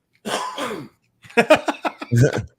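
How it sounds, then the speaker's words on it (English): A few rough, throaty coughs and throat-clearing sounds in two quick bursts, close to the microphone. "hold on a second, I got a cough."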